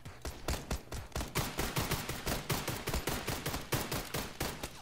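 Rapid gunfire from a pistol in the PUBG video game, a dense burst of sharp repeated shots rattling steadily through the whole stretch, loud and close with no talking.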